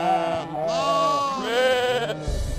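Sheep bleating in a flock, a series of drawn-out wavering bleats that overlap one another, close and fairly loud with no talk.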